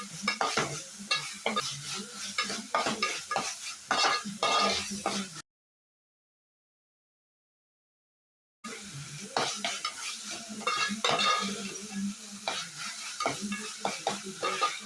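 Ginger and garlic sizzle in hot oil in a pan while a spoon stirs and scrapes against it, with a brief silent gap partway through.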